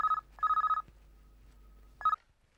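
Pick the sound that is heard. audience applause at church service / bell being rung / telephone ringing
telephone ringing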